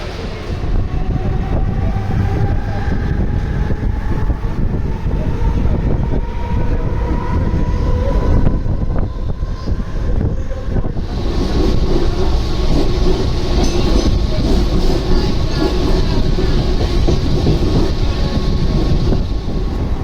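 A Mumbai local train rolls into a station with a continuous heavy rumble and rattle of wheels, while a steady electric whine shifts pitch as it slows. It is close and loud throughout, with no voices.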